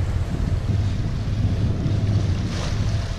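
Sea waves and wind while sailing a boat from Singapore to Manila: a loud, constant rumble of wind buffeting the microphone over rushing water, with a brief swell of spray near the end.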